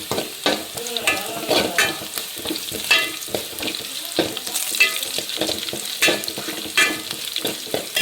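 Vegetables sautéed and stirred in a hot pan give a steady sizzle broken by repeated scraping stir strokes, close and fairly loud, with no talking.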